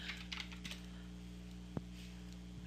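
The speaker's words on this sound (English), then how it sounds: "We hit 3 on the keyboard." A computer keyboard is tapped a few times, producing sparse, soft clicks over a quiet electrical hum during 3D modeling work.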